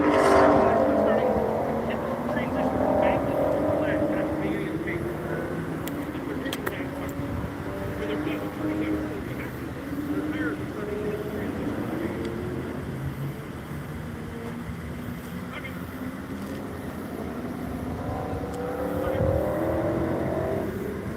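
Engine drone from an Audi race car lapping the Nashville Super Speedway, rising and falling as it moves along the track, mostly under steady commentary.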